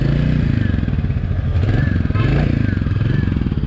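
A newly bought motorcycle is ridden on a test run, its engine a loud, close, steady throbbing rumble with mechanical clatter throughout and a slight rise in revs midway.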